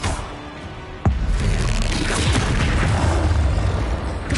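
A Confringo blasting spell detonates in Hogwarts Legacy, a sudden sharp explosive crack followed by a dense, rumbling roar that sustains loudly for several seconds without speech.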